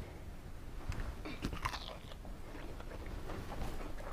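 Beer-battered fish and chips are bitten and chewed at a camp kitchen, producing close, crisp crunches in a short burst followed by steady chewing.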